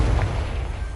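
A Confringo spell in Hogwarts Legacy erupts as a dense, low, rumbling blast that fills the whole moment with a loud, steady roar and no voices.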